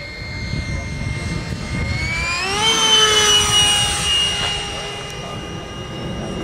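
Radio-controlled model WWII-era Sabre jet airplane flying at an RC club anniversary event: a high whining engine tone sweeps upward and grows louder as it passes close, then fades, over steady outdoor background noise.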